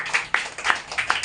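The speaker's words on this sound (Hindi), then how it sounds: "ताली बजाओ मृत्युंजय के लिए" A group of schoolchildren claps for a classmate in a short burst of about six or seven uneven claps, moderately close and fairly soft.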